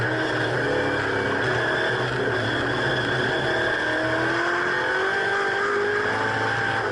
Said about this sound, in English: Damn, this Ford sounds incredible, dude.